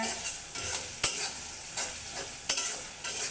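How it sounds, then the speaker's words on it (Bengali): Noodles and potato cubes sizzle steadily in a hot pan with tomatoes, with periodic scraping and stirring strokes and a few sharp clinks of a utensil against the pan. "একটু ভাজা ভাজা করে নিব, টমেটোগুলো যাতে একটু গলে যায়"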